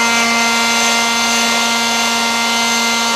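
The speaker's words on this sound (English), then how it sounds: "That's a good blower, man." Leaf blower running continuously at full power, a loud steady roaring drone with a constant tonal whine, close and uninterrupted.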